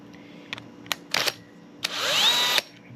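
A number 7 driver backs silver screws out of the air box on a Briggs & Stratton push mower: a few sharp clicks, then a close, steady whirring burst lasting under a second.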